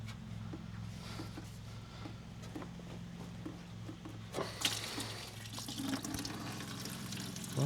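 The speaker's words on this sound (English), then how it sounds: "So when this comes off, it's gonna want to drip a little." Antifreeze drains from the radiator of a 1966 Ford F100, quiet trickling over a low hum that swells into a louder, splashing liquid flow partway through, with no talking.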